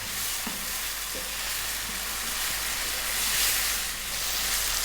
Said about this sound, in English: We want to really cook down those tomatoes.